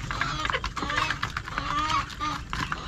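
Chickens, hens and roosters, cluck and chatter close by in a farmyard, with a person talking over the birds throughout.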